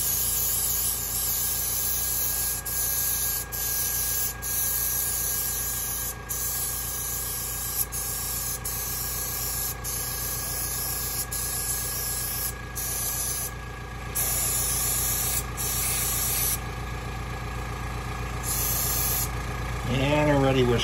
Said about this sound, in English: we got the airbrush going again.